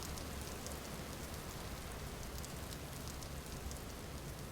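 Steady, dense rain hiss from a video game, even and continuous throughout with no voices.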